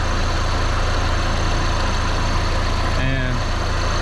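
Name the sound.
Audi TT engine running after being jump-started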